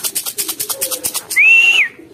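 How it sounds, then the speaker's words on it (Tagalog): Racing pigeons returning from a 174-kilometer race and landing at the loft, heard as rhythmic close wing-flapping bursts followed by a bright sustained whistle-like call, with a soft low coo underneath. "Babaan na ibang ibon natin."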